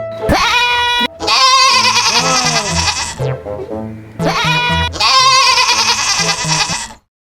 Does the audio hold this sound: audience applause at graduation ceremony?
no